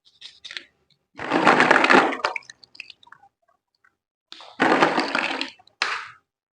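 Plastic perm rods being swished and rinsed in a basin of clear water, two long splashing bursts separated by quiet, with a few short drips and splashes around them, close and loud.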